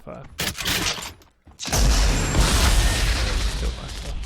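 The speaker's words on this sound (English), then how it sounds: "So I shoot my gun, reload. It's playing the effect on my head for explosions." Gunfire bursts and explosion effects from weapons in an Unreal Engine shooter demo: a few sharp shots early, then after a brief gap a loud, dense, sustained wash of firing and blasts.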